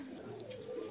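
A high flyer pigeon held in the hand coos in a low, steady, continuous murmur close by, with faint background noise and no clear speech.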